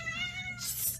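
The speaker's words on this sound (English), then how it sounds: "My cat is she just likes to yell at me." A pet cat lets out a loud, insistent meow lasting about a second, sounding close and alone with no talking.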